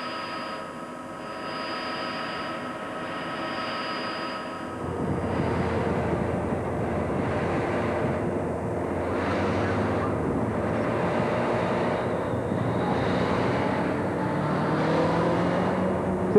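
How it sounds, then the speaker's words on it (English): Race motorcycles accompanying a 1995 Flèche Wallonne professional cycling race pass the riders on a twisting road, a low steady drone that swells into a louder, broader roar of engines approaching and passing, with pulsing surges as they move through. "they see the motorcycles coming through"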